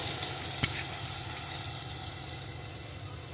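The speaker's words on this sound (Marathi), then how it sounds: "हा मिक्स केलेला भाजी परतलेले मसाल्यामध्ये टाकायचं।" Mixed vegetables sizzle steadily in a fried spice mix, a close, even hiss with a single sharp clink near the start and no talking.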